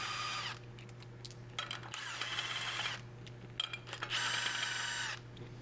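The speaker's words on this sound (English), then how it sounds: "We can take these nuts off." A power tool spins lug nuts off a wheel spacer on a Toyota Tundra: several loud whirring, ratcheting bursts separated by short pauses over a low steady hum.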